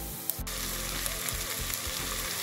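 Corned beef frying with glassy onions in a pot, a continuous close sizzle with a brief clatter near the start and soft stirring sounds, no talk.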